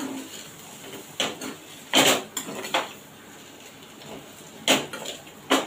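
Vegetables for a masala dosa filling are stirred in a pan after the lid comes off, several sharp metallic clanks and scrapes of spoon on pan spaced irregularly over quiet background, no speech.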